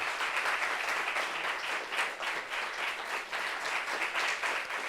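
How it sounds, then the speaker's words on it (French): A studio audience on a French-language television talk show applauds to welcome a guest, a thick wash of many hands clapping together that stays steady and moderately loud, with a few brief swells. "Applaudissements pour elle, s'il vous plaît."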